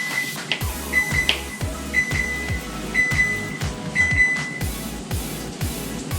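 A series of short electronic beeps from an oven signalling it is preheated repeats at a steady pace over low background hum and faint knocking.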